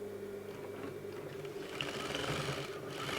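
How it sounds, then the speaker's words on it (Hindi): A sewing machine stitches a velvet strip with a faint, steady whirring hum and soft mechanical chatter, running continuously without pauses. "पहले इस पट्टी में हम सिलाई लगा लेते हैं।"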